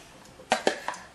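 Food dropped into a cooking pot in a home kitchen, giving three separate clattering knocks about a third of a second apart, close and fairly loud against a quiet background.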